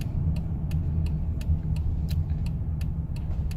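2016 Honda Odyssey accelerating gently while its transmission shifts hard, heard from inside as a low steady engine rumble with a regular faint ticking on top.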